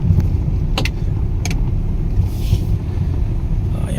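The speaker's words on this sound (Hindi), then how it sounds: "मैं 1 मिनट गाड़ी रोक लूँ, गाड़ी रोक के बात करता हूँ।" Car coming to a halt at the roadside, with steady low engine and road rumble plus wind buffeting the microphone and a couple of brief clicks.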